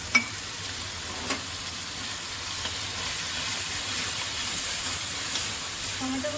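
Tomatoes and paste frying in a pan for chana masala, a steady close sizzle and hiss with a few faint stirring knocks and no voices.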